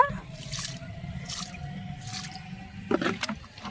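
Liquid fertilizer poured onto plants in a few short splashing bursts, with trickling and dripping near the end; no one speaks.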